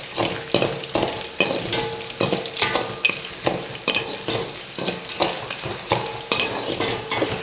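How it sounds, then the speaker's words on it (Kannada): Crushed garlic frying in oil for chitranna: a close, continuous sizzle with rhythmic scrapes and clicks of a spoon stirring the pan, no voices. "ನೆಕ್ಸ್ಟ್ ನಂತರ ಬೆಳ್ಳುಳ್ಳಿ ಹಾಕೋಣ. ಜಜ್ಜಿಟ್ಕೊಂಡಿರೋ ಬೆಳ್ಳುಳ್ಳಿ."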